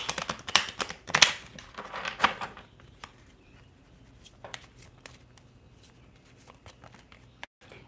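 Cards drawn from an oracle deck: a quick burst of crisp flicking and riffling, then scattered light taps and slides as single cards are handled, close and fairly quiet.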